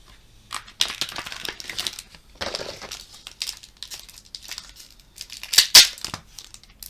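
Tape is peeled and crinkled from Pokémon booster packaging in several bursts of rustling and tearing, close up, with a sharper crackle near the end.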